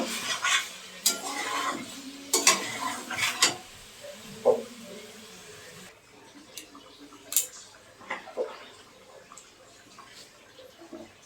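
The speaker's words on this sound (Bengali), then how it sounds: "মশলার সঙ্গে খুব ভালো করে মিশিয়ে নেব" Cauliflower being stirred and mixed with spices in a pan, with a series of scraping spoon strokes and clinks over a faint sizzle, busier at first and sparser later; no talking.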